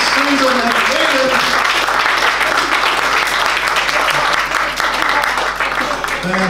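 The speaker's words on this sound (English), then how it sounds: "We just got another round of applause for everyone" An audience at a meet-and-greet event gives a sustained round of applause, dense and steady from start to finish, with a voice faintly audible beneath the clapping.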